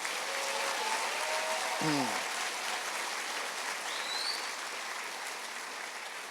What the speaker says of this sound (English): Let's give them all a big round of applause again.